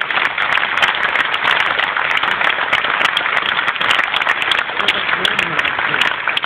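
Conference delegates clap together at a trade union gathering, a loud, dense and continuous round of applause that holds steady throughout.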